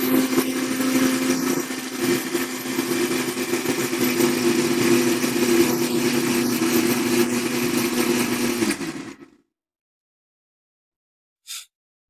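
Blender beating thick full-cream rose milk, a loud steady motor whir running for several seconds before cutting off abruptly, followed by silence and a brief click.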